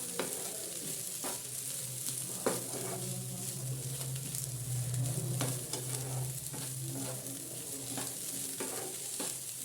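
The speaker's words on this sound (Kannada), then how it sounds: "ಸೊ ಇವಾಗ ಚೆನ್ನಾಗಿ ಮಿಕ್ಸ್ ಮಾಡಿ ಸ್ವಲ್ಪ ಹುರಿಯೋಣ. ಟೊಮೆಟೊ ಹಾಕಿದ್ಮೇಲೆ ಸ್ವಲ್ಪ ಹುರ್ಕೊಳ್ಳಿ" Tomato with coriander powder sizzles and fries in a pan while a spoon stirs it, with scraping taps and clinks over a steady low frying hiss, close and moderately quiet.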